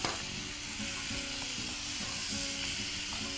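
Grated coconut frying in hot oil, a steady dense sizzle with faint stirring clatter underneath, continuous and close, no voices.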